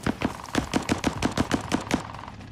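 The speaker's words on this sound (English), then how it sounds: "Yep, this guy's over there shooting at me." Enemy gunfire in an online shooter game rattles off as a rapid, evenly spaced string of about a dozen automatic shots at moderate distance, with no talk over it.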